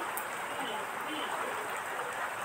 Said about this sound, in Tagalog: lumalakas pa rin ang ulan